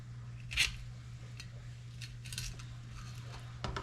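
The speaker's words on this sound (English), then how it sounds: "And then you just cut along this rib cage." A knife slices along the rib cage of a freshly caught trout, making a few faint, brief wet cutting and snipping sounds in a quiet setting.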